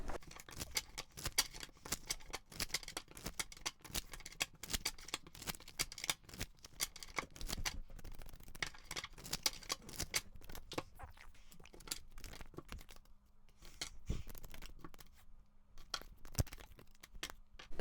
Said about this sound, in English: I'm going to pull a little bit more cards on this.